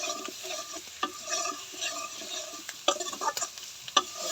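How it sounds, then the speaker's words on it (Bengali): Spice paste with chili powder frying in oil in a pan for a catla fish curry: a soft crackling sizzle broken by sharp scrapes and clicks of stirring, close up with no talk. "মশলাটাই তেলে ভেজে নেবো, মশলার একটা গেরা নেবো সুন্দর।"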